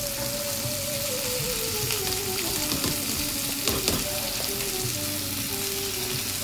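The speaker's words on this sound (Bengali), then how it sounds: "তো এখন আমি এই কাটা ঝিঙেগুলো এখানে ছেড়ে দেবো কড়াইতে।" Sliced ridge gourd fries in a wok with potatoes, a loud, dense, continuous sizzle with crackling bursts and a few scraping stirs.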